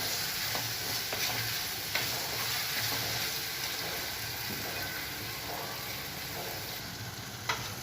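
Onion, ginger-garlic paste and tomato sauté in a pan for a village-style prawn fry, giving a steady, moderately loud sizzle with occasional soft stirring clicks throughout.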